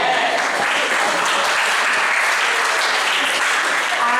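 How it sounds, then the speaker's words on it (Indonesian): Junior high school students at a drug-awareness and social-conduct outreach session break into loud, continuous applause that fills the room evenly from start to finish. "Tepuk tangan buat kalian."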